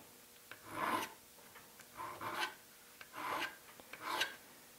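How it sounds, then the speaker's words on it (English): A metal file is pushed across the bevel of a woodworking chisel in four even, separate rasping strokes, close up and quiet, with short pauses between them. "we want to take the file, we want to set the file with the bevel, and then we want to make nice even strokes"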